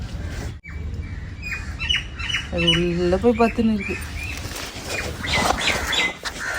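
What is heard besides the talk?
koel calling from a coconut tree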